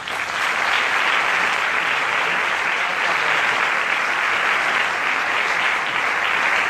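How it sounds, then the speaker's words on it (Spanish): An audience at a book presentation breaks into loud, sustained applause, dense clapping that holds steady throughout with no speech. "les pido por favor un aplauso"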